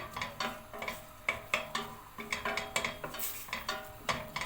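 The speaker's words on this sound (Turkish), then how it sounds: "Soğanım iyice kavrulsun." Close-up stirring and scraping of onions frying in a pan, with repeated spoon clatters over a soft sizzle.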